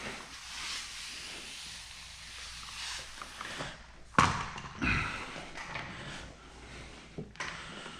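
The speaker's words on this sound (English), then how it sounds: "get the adhesive sprayed down with my slip solution" Slip solution sprays onto the adhesive of paint protection film on a GMC Sierra AT4 front bumper as a soft, close hiss, followed by a few thumps and rustles of film being handled.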